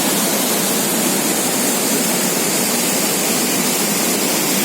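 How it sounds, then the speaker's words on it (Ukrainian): A small mountain stream on the Prut river in the Carpathians, near Yaremche, rushes steadily downhill, giving a loud, continuous broadband wash of running water close by with no voices. "Гірська річка, вода збігає, вимиває."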